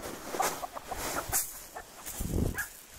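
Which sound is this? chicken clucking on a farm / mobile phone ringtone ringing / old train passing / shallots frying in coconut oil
chicken clucking on a farm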